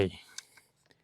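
Turret clicks on the scope of an Air Venturi Avenge-X .25 bullpup PCP air rifle: a few faint, sharp clicks spaced apart, following a brief rustle at the start.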